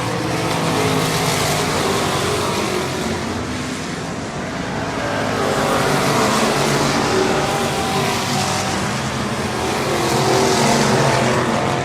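Race cars roar through the turns at Cotton Bowl Speedway during a heat race, a loud continuous engine drone that swells and fades as the pack passes.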